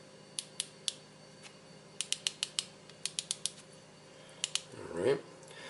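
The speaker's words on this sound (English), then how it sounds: "clicking spool tension" Spool tension knob on a Lew's BB1 Pro baitcast reel being turned, giving sharp, sparse mechanical clicks in small irregular clusters, close and fairly quiet, with a brief rustle near the end.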